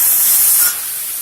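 Potatoes dropped into hot oil with green chillies for a spinach and potato stir-fry give a loud, steady hissing sizzle that fades to a softer, constant hiss partway through.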